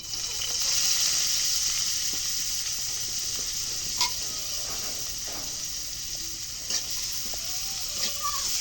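Chili, onion and garlic hitting a hot pan with oil, giving a steady bright sizzle throughout, punctuated by a few sharp clinks of a stirring spoon against the pan.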